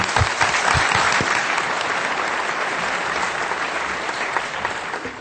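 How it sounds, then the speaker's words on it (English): Warm audience applause fills the room at a formal event, a dense, sustained round of clapping that gradually tapers off over a few seconds. "Let's thank them once again with the warmest applause."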